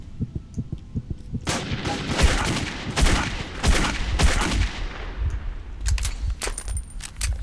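Enemy gunfire in Metro 2033 cracks out in loud, close bursts of shots, with a few quieter pops and metallic clinks at the end.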